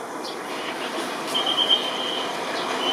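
Train pulling into a platform at Thonburi station in Thailand, a steady rolling rumble with high squealing wheels and a faint tonal whine throughout.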